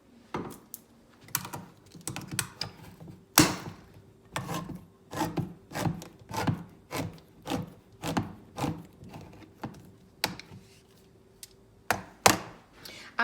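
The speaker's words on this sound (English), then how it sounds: "We're going to use the can opener to open the chickpeas now." A can opener cranks around a can of chickpeas up close, making a steady run of crisp ratcheting clicks and scrapes about twice a second, with no talking.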